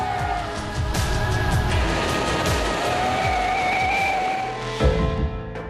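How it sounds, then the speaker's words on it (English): An Audi S8 sedan with an 8-stage Tiptronic automatic accelerates hard down a long straight, its engine roaring loud and steady as it climbs through quick gear changes. "The S8 has an 8-stage Tiptronic automatic transmission with extremely dynamic gear changes."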